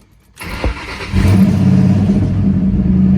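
A car engine, just repaired after a failed SCT tuner flash, cranks briefly, then catches and settles into a loud, steady running rumble close by.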